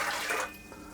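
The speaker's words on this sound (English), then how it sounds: "So I'm going to put the water into the bowl of my stand mixer," Water poured from a cup into the bowl of a stand mixer, a short splashing gush that stops after about half a second, followed by a faint drip, close and fairly quiet.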